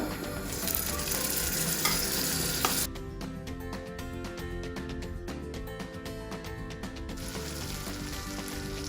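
Butter goes into cooking caramel for caramel popcorn: a loud, bright sizzle for the first few seconds, then a softer steady frying hiss with faint clicks before the sizzle swells again near the end, with no voices.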